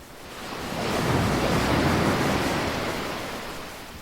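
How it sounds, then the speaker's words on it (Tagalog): Steady roar of ocean surf washing in, swelling louder through the middle and easing off, with a broad rushing hiss and no voices. "Humahalo sa hampas ng alon."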